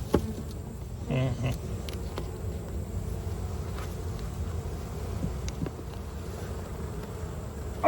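Honey bees buzzing steadily at a hive in poor condition, a continuous close drone with a few brief sharper buzzes as individual insects pass near.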